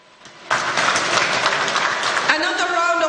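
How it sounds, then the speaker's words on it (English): Audience applause at a gas infrastructure commissioning ceremony, a dense burst of many hands clapping that starts abruptly and holds steady, with a voice beginning to speak over it near the end. "Another round of applause for him, please."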